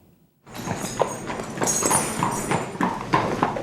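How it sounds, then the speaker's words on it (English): Horses walk at Arlington National Cemetery, their hooves clip-clopping in a steady, close rhythm after a brief quiet start. Faint creaks and jingles of harness sit behind the hoofbeats, and no one speaks. "The day begins with the horses, washed down and shined up right down to their hooves"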